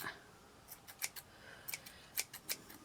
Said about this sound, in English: where's my scissors that work? I just trim mine off